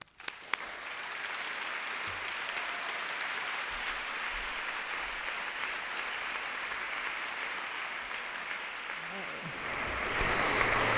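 An audience at a lecture performance claps to welcome a speaker, steady, full applause that starts suddenly and carries on for about ten seconds, swelling slightly near the end.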